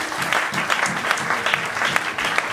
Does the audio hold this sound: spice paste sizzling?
no